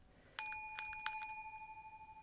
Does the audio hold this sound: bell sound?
yes